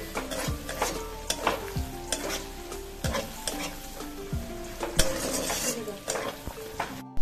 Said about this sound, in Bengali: পেঁয়াজটা গোটা গরম মশলার সঙ্গে ভালো করে ভেজে নিয়ে এই মশলাটা দিয়ে দিচ্ছি